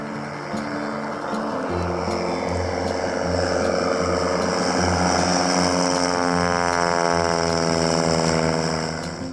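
Small propeller airplane engine droning steadily and loud throughout, with a constant harmonic whine, heard from inside the aircraft in flight over a frozen Alaska lake in winter.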